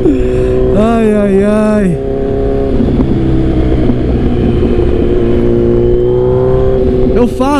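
A Kawasaki Z1000 motorcycle revs up and down with rising and falling engine whine, then holds a loud, steady drone; someone shouts excitedly over the engine noise near the start.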